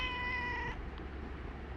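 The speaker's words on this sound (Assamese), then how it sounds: "এইটো এই মেকুৰী চাচোন কেনেকুৱা কৰিছে" A black cat meows loudly and close for under a second, then fades to quiet room noise.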